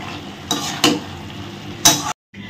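Hilsa fish heads with bamboo shoot are stirred in a pan, giving a few sharp scraping and clanking strokes over a low sizzle, with a brief silence near the end.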